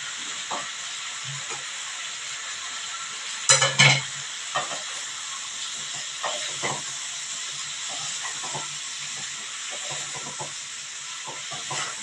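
Spices with chili powder and salt being stirred in a hot frying pan, a steady sizzle and hiss under scattered scraping spoon strokes, with one louder clatter partway through; no talking.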